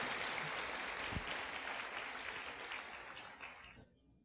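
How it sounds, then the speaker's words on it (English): A church or talk audience gives a full round of broadband applause for a spiritual speaker at a Silicon Valley gathering, steady and dense before thinning and fading out near the end. "Let's give a round of applause again."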